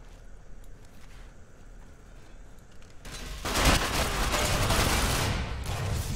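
Bursts of video game gunfire from an enemy shooting down from upstairs, quieter at first then erupting into loud, sustained rapid fire that continues to the end, with no talking.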